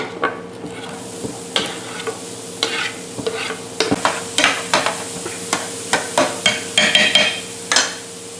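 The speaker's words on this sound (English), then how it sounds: "Throw in the onion." Onion frying in a pan for manicotti, with a steady sizzle behind regular scraping knocks of a spoon stirring the pan, close and clear, with no talking.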